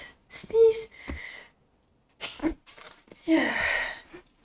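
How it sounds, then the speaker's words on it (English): A person sneezes during a gaming session in Morroblivion, with a breathy build-up and a sharp burst, among other short close vocal noises and breaths. "Must sneeze."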